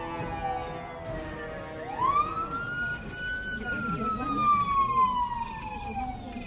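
Police car siren wailing steadily, rising then slowly falling in pitch, loud and close over a low rumbling background.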